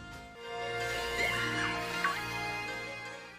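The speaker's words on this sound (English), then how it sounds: "you will know he is nearby if you hear his Pokemon cry." A Mimikyu's cry from Pokemon Sword and Shield, a short synthesized electronic creature call with tonal sweeps over a steady musical backdrop, heard on its own without talk.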